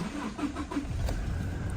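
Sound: pickup truck engine starting

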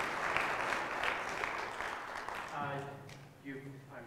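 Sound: concert audience applause

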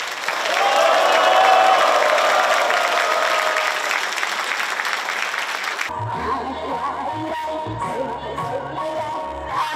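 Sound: crowd applauding and cheering

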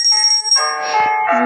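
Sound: bell ringing in Granny video game

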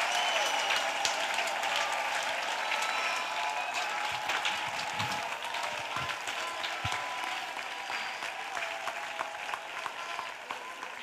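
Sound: congregation clapping for Jesus Christ

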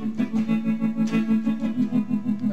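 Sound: guitar tremolo effect from a Korg AX5G multi-effects pedal

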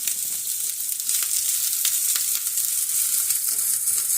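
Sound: mushrooms sizzling as they are added to a hot pan

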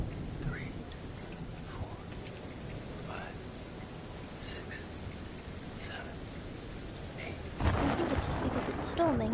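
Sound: thunderstorm with rain in Man of Medan video game

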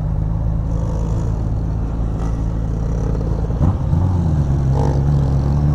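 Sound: heavy car traffic passing

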